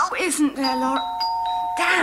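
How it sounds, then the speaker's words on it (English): A doorbell sounds indoors: a clear, ringing two-tone chime that sustains briefly, with people talking just before and after it. "that's a doorbell again"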